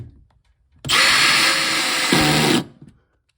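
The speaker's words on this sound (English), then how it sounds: "then you take your trusty drill," A cordless power drill drives a screw into a fastening for hydronic lines on a workshop mezzanine: one steady, loud whirring burst of nearly two seconds, pitch dropping slightly near the end as the screw seats.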